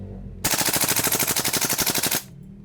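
An airsoft rifle, GHK HK416A5 with cerakote finish, fires a single full-auto burst of roughly two dozen rapid, evenly spaced cracks lasting under two seconds, close and loud.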